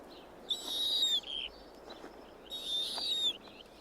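A wild owl calls twice in the open, two bright drawn-out screeching cries, each followed by short softer notes, moderately close with no talk.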